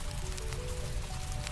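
Steady white-noise rain plays as a constant, dense wash of patter with a low rumble beneath, unbroken and even throughout.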